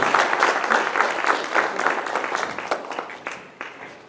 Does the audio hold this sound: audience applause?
yes